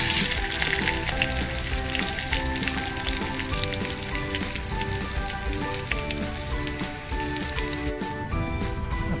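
Garlic and curry leaves crackling in hot tempering oil with mustard seeds, a dense, continuous close-up sizzle and spatter with no talking.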